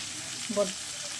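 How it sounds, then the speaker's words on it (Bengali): Whole green chillies sizzle in a frying pan with a soft, steady hiss. A brief voice-like sound comes partway through the short moment. "এবার আমি গোটা কাঁচা লঙ্কা দেবো"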